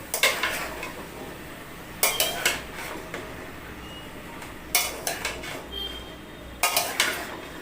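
Vegetables and ghee are stirred in a pan. A utensil scrapes and clatters against the metal in three or four short, loud bursts, with quieter sizzling and simmering in the gaps.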